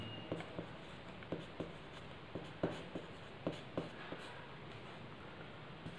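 Pen or pencil writing by hand on paper while working out a rectangle perimeter problem for a school mensuration homework solution, with soft irregular scratching strokes and taps, fairly quiet and close, no talking.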